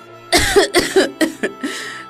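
A sick woman in a cartoon, voiced by an actor, coughs in a quick run of about five close, loud, harsh bursts, each sharper than the last before tapering off.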